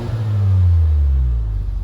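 A Honda Civic Type R exhaust revs once, close and loud, a deep rising-and-falling engine roar that swells and eases off over a couple of seconds with no talking.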